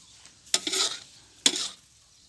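Rice noodles being stir-fried in a hot pan, with two distinct scraping stir strokes over a soft sizzle, close and clear with no talking.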